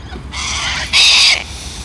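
Pet birds calling indoors, two loud, close, raspy screeching calls in quick succession, the second one sharper and shriller, over quiet room noise, with no talk.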